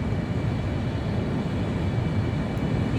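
An F-35A jet builds speed on afterburner for a performance takeoff in Microsoft Flight Simulator, giving a steady, loud, broadband engine roar that holds constant throughout without talk.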